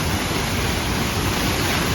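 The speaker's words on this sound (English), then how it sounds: "That's the waterfall right there." A waterfall in the rainforest at Uruapan, Mexico roars as a dense, steady rush of falling water, loud and unbroken throughout.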